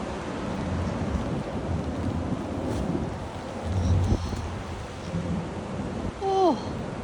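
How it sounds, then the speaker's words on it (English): Strong wind gusting through a rainy San Francisco street, a steady broadband roar buffeting the microphone, with a faint whistle and a brief louder gust near the end. "Not sure how well the umbrella will do in this wind."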